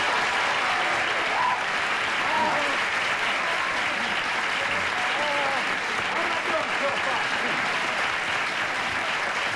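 A studio audience on the Donahue talk show gives steady, dense applause for the stars of A Fish Called Wanda. It holds at an even, loud level throughout.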